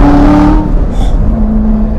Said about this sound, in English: the temptation is to do this because of those incredible downshifts and the rev matching